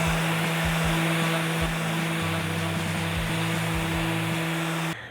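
An orbital sander runs steadily with a maroon non-woven pad on acrylic solid surface, a constant close whir with a faint scuffing texture and small rhythmic thumps beneath, cutting off near the end.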